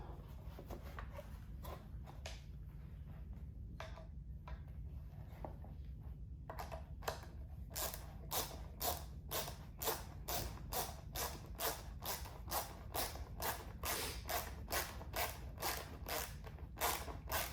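Screws being tightened into a plastic stereo panel on a motorcycle audio install, a steady run of quick, evenly spaced ratcheting clicks close by that starts sparse and grows regular over a low background hum.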